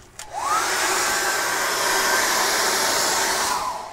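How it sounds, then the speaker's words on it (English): A hair dryer switches on and blows steadily at close range to dry an acrylic night-sky painting, a loud continuous whoosh with a faint whine held for about three seconds before it cuts off. "I'm going to put my hairdryer on"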